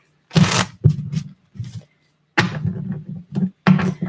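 Tarot cards riffled and shuffled in several quick bursts, crisp and close, separated by brief pauses.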